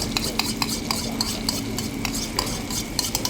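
Beaten eggs with cha-om being stirred in a bowl for a Thai omelette: a steady, quick series of light clinking and scraping strokes, close and alone, with no talking.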